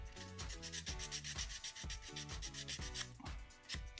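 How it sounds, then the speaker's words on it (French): A GoPro mount is sanded by hand to fit a helmet's curve, with brisk, regular back-and-forth rubbing strokes, about two or three per second, close up and alone. "Un petit peu de ponçage."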